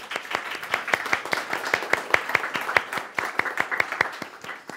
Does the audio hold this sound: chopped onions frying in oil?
no